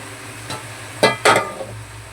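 A spoon mixes biryani gravy with yogurt in a pot, making three or four close, brief scraping strokes over a low, steady background hum.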